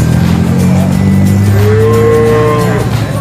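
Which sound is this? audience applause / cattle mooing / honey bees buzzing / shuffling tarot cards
cattle mooing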